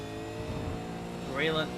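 A race car at Sebring raceway drones through a corner exit under commentary, its engine a steady mid-level hum that swells briefly near the end with a rising whine.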